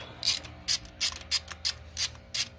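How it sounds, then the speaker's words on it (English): A ratchet loosens the spark plugs on a 2009 Toyota Matrix XRS with a 2.4 engine: seven sharp, close bursts of clicking arrive in an even rhythm with short pauses between them. "Okay, so we're on the last spark plug here. Just loosen them all up."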